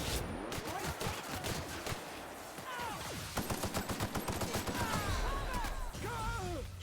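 Rapid gunfire from The Outer Worlds, dense bursts of overlapping shots and impacts that pile into a continuous loud barrage, with scattered swooping tones threaded through it.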